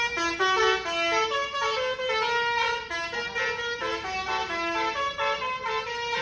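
A toy bus horn honks in a steady melodic tooting pattern of repeated tones, close and fairly loud, playing continuously with no voices.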